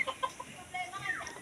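A small flock of 45-day-old chickens gives soft, scattered clucks and short chirps, faint and somewhat distant over low background noise, with no voices.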